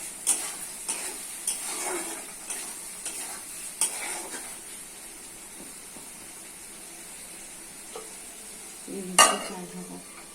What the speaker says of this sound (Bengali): মাংস একেবারে মশলার সঙ্গে কষে দিতে হবে